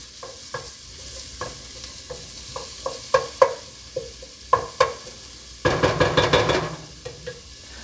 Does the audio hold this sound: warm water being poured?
no